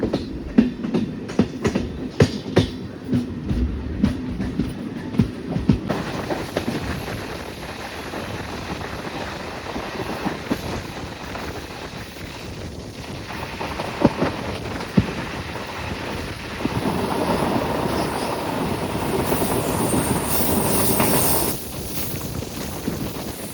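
Onboard a Bengaluru–Mysuru passenger train, a continuous rumbling roll of wheels on track with irregular clicks and knocks in the first few seconds, then a smoother windy rush that swells louder near the end, no talking.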